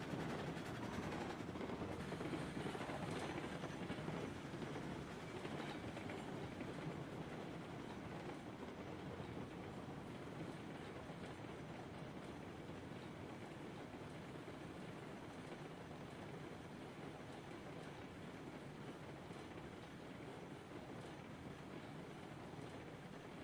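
A locomotive in a train simulator game rumbles along steadily, a continuous dense rolling drone with faint rhythmic clatter, unchanging for the whole stretch with no talk.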